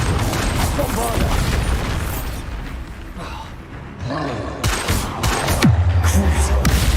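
Spell explosions in Hogwarts Legacy, a series of loud booms and blasts with crackling bursts and sharp impacts, building into dense clustered hits toward the end over continuous game noise.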